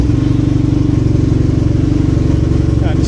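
An engine cranked on an old lead-acid battery catches and runs with a steady, loud, close pulsing idle throughout.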